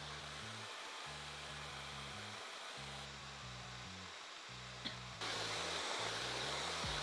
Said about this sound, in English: I've been drying my hair on this side for about 10 to 15 minutes